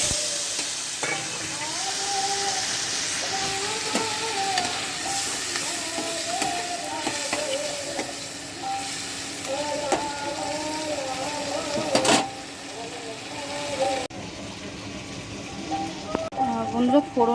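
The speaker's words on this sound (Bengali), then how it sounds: "বন্ধুরা ফোড়নে দিয়েছি শুকনো লঙ্কা আর কালো জিরে" Dried red chillies and black cumin (kalo jeere) sizzling in hot oil as a tempering for a Bengali pabda fish curry, a continuous frying hiss with stirring clinks, while someone talks over it.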